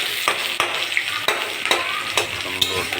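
Onions frying in a pan until browned, a bright continuous sizzle punctuated by regular sharp spatula scrapes and taps, close up and fairly loud, with no voices.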